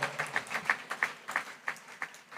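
Audience applause, a short burst of scattered hand claps at a fairly even quick pace, moderately distant and modest in volume.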